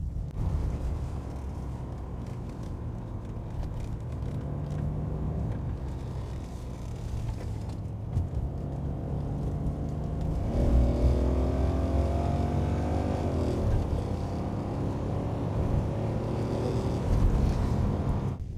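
A BMW E23 735i held in second gear on a winding road gives a steady engine drone that swells midway into a louder, rising pull with shifting pitch, then eases and builds again near the end.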